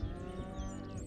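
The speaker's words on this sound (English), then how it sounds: "Yeah, look, here's the mooey cows." Cattle in the Nature Treks VR game give a long, low, sustained moo, fairly quiet and heard alone without any talk.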